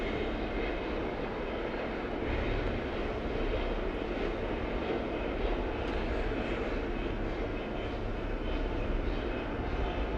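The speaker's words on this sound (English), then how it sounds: "So the engines roar up once again." Racing motorcycle engines at an FIM Asia Road Racing Championship round roar together on the grid before a sighter lap, a loud, dense, unbroken drone that holds steady throughout.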